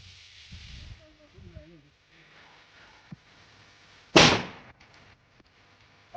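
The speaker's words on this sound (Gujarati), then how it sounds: "એક ફટાકડાની ટ્રાય કરવા આવ્યા છે" A single Diwali firecracker goes off with one sharp, loud bang a little past the middle, its burst fading quickly into quieter surroundings, after brief voices earlier on.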